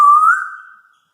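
A grey parrot imitates a kite's call with a single clear, whistled note that rises slightly, holds, then fades out within about a second, close and loud with no other sound.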